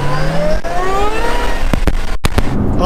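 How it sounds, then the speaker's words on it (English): A 2008 Shelby GT500 accelerating hard, its supercharger blower whine rising in pitch alongside the climbing engine note, close and loud from inside the car, broken by a few quick shifts near the end. "you hear that blower whine"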